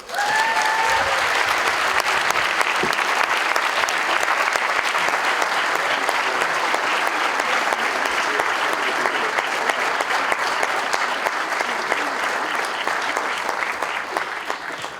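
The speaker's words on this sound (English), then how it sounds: "please, a warm, warm applause for Cary Fukunaga and actor David Dencik" An audience at a film festival applauds director Cary Fukunaga and actor David Dencik, guests for No Time To Die: dense, steady clapping from a large crowd that holds loud and unbroken for about fifteen seconds, with no talking over it.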